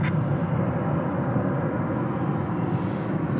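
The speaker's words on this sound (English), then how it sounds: "It's an Embraer 175." An Embraer 175 jet airliner at DFW Airport after dark, a steady, loud broadband engine roar held close and constant without any voices.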